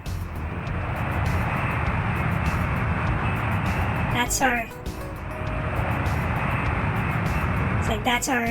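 A low, steady engine drone from a C-130 in a Strike Commander flight-sim cutscene runs throughout, with someone talking over it and a few brief clicks and blips.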